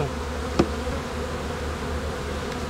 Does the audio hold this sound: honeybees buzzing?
yes